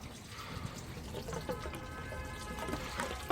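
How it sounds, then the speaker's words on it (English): Bar's Leaks sealant poured into the cooling system of a four-cylinder Briggs engine with a leaking freeze plug, a steady close liquid gurgle and trickle running unbroken throughout. "So if I pour the bars in, it'll go straight into the engine"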